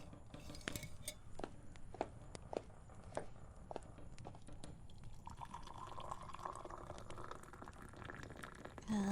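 Water boiling in a kettle for tea in a cozy blizzard-shelter scene, a steady low bubbling hiss with scattered sharp pops and drips, close and fairly quiet, building slightly toward the end.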